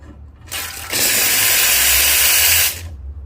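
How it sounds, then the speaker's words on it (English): An espresso machine's steam wand purges steam in a loud, forceful hiss that starts abruptly, builds in strength after a second, holds steady for nearly two seconds, then cuts off. "before we steam the milk, let's purge the steam."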